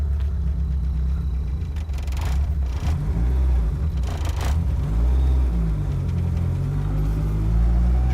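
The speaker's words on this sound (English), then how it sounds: "Driving my car for the first time." A car with a Mitsubishi 4G63 engine from a GSX donor, being built into an AWD Mini Cooper, rumbles along on its first drive with poor timing, a steady low engine drone shifting in pitch, heard from inside the cabin.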